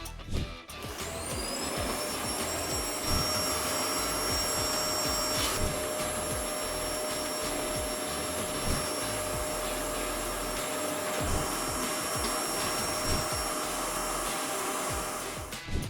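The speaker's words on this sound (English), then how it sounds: "Then they leveled up with a deep vacuum operation" A vacuum cleaner whirs up to a steady, loud drone with a high whine, running continuously with slight fluctuations as it moves over the surfaces of an abandoned 14-year-old Audi with a V10.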